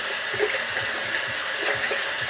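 Running tap water pouring steadily over a hand being rinsed at a sink, a close, continuous splashing rush with small irregular splatters and no talking.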